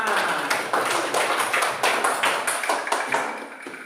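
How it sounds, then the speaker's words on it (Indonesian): A classroom group claps for a student team after their presentation: a burst of sharp, uneven hand claps, fairly near, that thins out and fades toward the end. "Tepuk tangan untuk kelompok 5."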